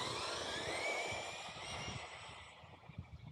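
A Traxxas Mini XRT RC truck races past, its electric motor giving a high, rising-and-falling whine that fades into gritty tire and terrain noise as it pulls away, with no talking.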